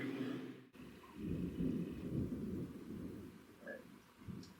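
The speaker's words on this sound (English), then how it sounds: "That was a good thunder boomer." Deep, rolling thunder from a passing storm rumbles low and sustained for several seconds after a brief quiet gap, swelling and fading with no voices.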